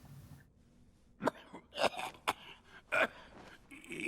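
Several sharp coughs and throat-clearing bursts in a Metal Gear Solid: Twin Snakes cutscene, close and fairly loud, spaced irregularly with a quiet pause before them.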